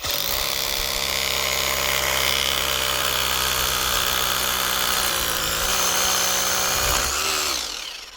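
A Makita cordless power tool runs on a 20Ah backpack battery pack, cutting with a loud, steady motor drone that holds for several seconds and then winds down at the end.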